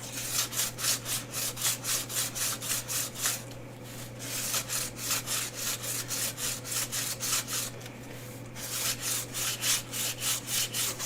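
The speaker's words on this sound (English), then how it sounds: "because you're sanding resin" Rhythmic back-and-forth strokes of sanding across the hardened resin surface of a painting, close and steady, with a brief pause partway through before the scraping resumes at the same pace over a low constant hum.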